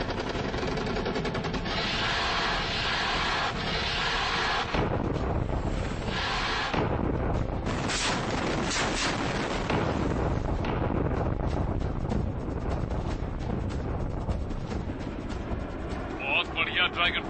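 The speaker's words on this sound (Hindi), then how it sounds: "अब हम अंदर हैं और फायरिंग शुरू करते हैं।" Sustained heavy gunfire and blasts from an air attack in a Hindi-dubbed war action film, a continuous loud roar of rapid shots and rumbling impacts with voices mixed in.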